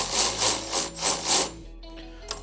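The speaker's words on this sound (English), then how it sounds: "if you guys are interested in this Milwaukee ratchet that I'm using, this thing's amazing" A Milwaukee ratchet works a stiff shock bolt loose on a Ski-Doo snowmobile during a Fox QS3 coilover install, giving close rhythmic clicking and rasping strokes in quick pulses before stopping, with no talking.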